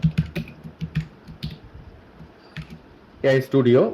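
Keys clack in quick irregular bursts on a computer keyboard, close and crisp, followed at the end by a person speaking.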